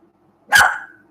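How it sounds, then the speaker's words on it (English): A single sharp dog bark close by in an otherwise quiet room, with a brief tail of echo. "come here if you're gonna bark like that"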